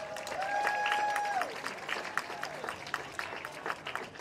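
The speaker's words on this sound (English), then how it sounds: "Let's give these talented musicians one last round of applause." Stadium crowd at a college football game applauding musicians, scattered claps and cheers under an opening whistle-like tone that fades, then uneven clapping trailing off.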